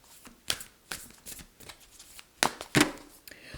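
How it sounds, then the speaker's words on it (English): Tarot cards shuffled by hand in a few quick riffling bursts, quiet and close, with short pauses between them. "They want them shuffled again."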